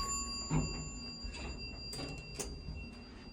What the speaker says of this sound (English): Door closes when it wants to.